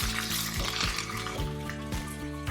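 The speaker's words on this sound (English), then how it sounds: "Now I'm just going to saute it for a few seconds." Shrimp sautéing in a hot pan for seafood crispy egg noodles, a steady close sizzle with bursts of stirring and scraping throughout, no talking.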